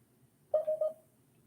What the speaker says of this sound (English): Notifications just went off.